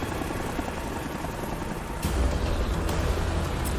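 Helicopters in an animated superhero episode give a steady, dense rotor and engine roar that swells louder partway through, with no speech over it.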